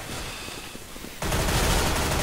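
AK rifle gunfire in a video game erupts partway through as a loud, dense, sustained burst of rapid shots after a quieter stretch of background noise.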